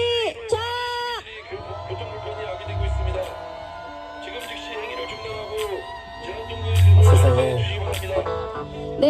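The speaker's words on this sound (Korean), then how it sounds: "함성을 지르면서 마무리하겠습니다." Crowd at an outdoor peace march rally, raising a loud collective shout and cheer to close the gathering, with swelling voices, whoops and broad babble building over several seconds.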